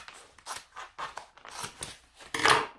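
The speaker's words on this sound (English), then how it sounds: "I want to trim off the bottom one as well." Scissors make several quick, close snips through fabric while trimming a sewing seam allowance, with the crisp cuts coming in an irregular rhythm.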